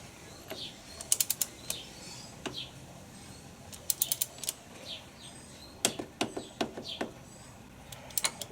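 Ratchet tightening the chain adjuster on a DR650 motorcycle during a chain replacement: several quick bursts of sharp, close metallic clicking separated by short pauses.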